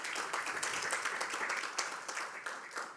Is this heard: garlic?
no